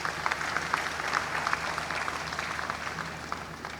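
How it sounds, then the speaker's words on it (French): An audience at a school-year opening meeting applauds steadily in a broad, sustained wash of many hands clapping, with no talk over it. "Et je voudrais qu'on les applaudisse très fort."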